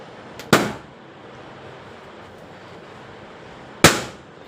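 Two sharp, loud pops from balloons being burst by a child indoors, spaced about three seconds apart with quiet room tone in between.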